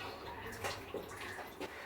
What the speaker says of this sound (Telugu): నేనైతే బియ్యం కడిగేసుకుంటాను